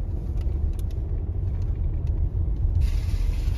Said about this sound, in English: We're off-roading right now.